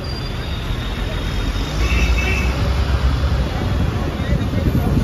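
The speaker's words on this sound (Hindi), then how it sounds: "ये बड़ा बाजार है, यहाँ पर काफ़ी जाम है बारिश की वजह से" Traffic is jammed on a busy street in Bara Bazaar, Kolkata, during rain, giving a continuous loud roar of engines and road noise with wind buffeting the microphone.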